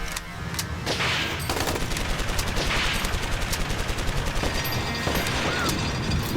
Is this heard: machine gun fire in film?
yes